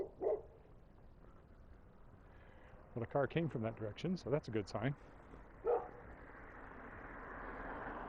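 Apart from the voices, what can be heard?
dogs barking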